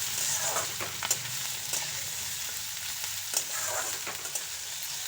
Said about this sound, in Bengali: এবার সব কিছু একসাথে খুব ভালো করে ভেজে নেব।